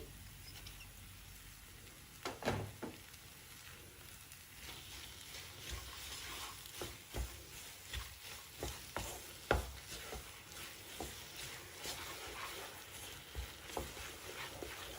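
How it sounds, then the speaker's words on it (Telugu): A spoon stirs poha kesari sweet with grated jaggery in a pan, repeated soft scraping strokes over a faint, constant low sizzle, close and quiet. "ఇలా తిప్పుకుంటూ దీన్ని ఉడికించుకోవాలి."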